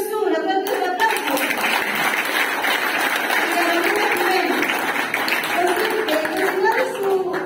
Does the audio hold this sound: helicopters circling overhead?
no